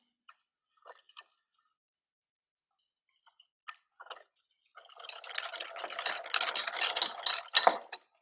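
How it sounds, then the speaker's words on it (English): Sugar and vanilla batter being whisked together by hand in a bowl during a home baking class, a few soft taps at first, then a steady, fairly close run of rapid scraping whisk strokes building for several seconds with no talking. "And then you're just gonna whisk this all together."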